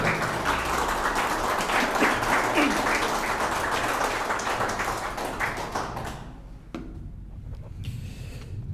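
Loud, sustained applause from an audience welcoming a guest speaker at the opening of a cooperative branch office in Cobán, with dense clapping that fades out after about six seconds, leaving a quieter room.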